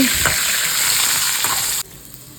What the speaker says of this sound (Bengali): আলু ভাজতে বসিয়ে দিয়েছি